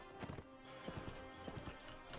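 Galloping horse hooves in the Mount & Blade: Warband video game, a quick uneven run of clip-clop beats in clustered bursts, close and fairly loud over a low background.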